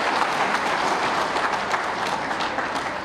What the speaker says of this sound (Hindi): एक बार ताली बजा दो हमारे बूथ अध्यक्षों के लिए भी